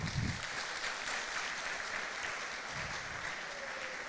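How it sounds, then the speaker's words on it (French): An audience at a web development forum's opening ceremony applauds a speaker, Mr. Diallo, with a faint, distant wash of many hands that stays level and continuous throughout. "M. Diallo, que je demande de l'applaudir"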